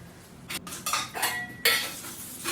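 Dishes, pots and cutlery clink and clatter while being washed up in a kitchen, a series of sharp, close metallic knocks and rattles in uneven bursts with a sink's soft background wash and no talk.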